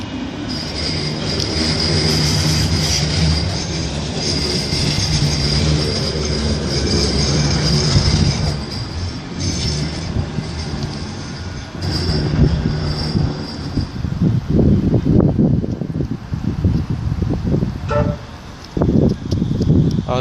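Manchester Metrolink tram 3086 departing Deansgate Castlefield stop, a rumbling motor hum with high-pitched squeal, then rhythmic rail clatter as it pulls away close by, with brief faint talk.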